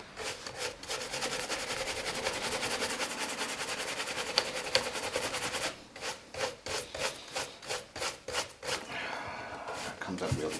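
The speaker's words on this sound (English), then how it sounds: "let's give it a buff off for the final coat of wax polish" Brisk cloth buffing of a refurbished, dyed leather shoe after a final coat of wax polish: a steady close rubbing hiss, then rhythmic back-and-forth strokes in quick repeated bursts.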